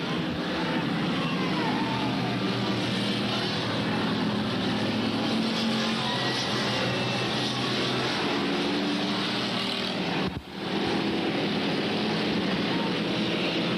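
Pack of street stock race cars roaring around an oval track at a 1993 race, a dense, continuous engine drone with revs building, loud and unbroken apart from a brief dip near the end.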